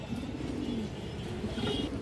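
A pair of club pigeons, a male in front and a female behind, coo in low rolling phrases close by, repeating over a steady background hum.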